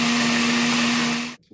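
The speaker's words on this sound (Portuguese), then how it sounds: "A gente pica ela em pedaços pequenos e a gente tritura ela no" A kitchen blender grinds small chopped pieces of mattress foam, giving a steady, loud motor whine with a gritty churning texture that cuts off abruptly just before the end.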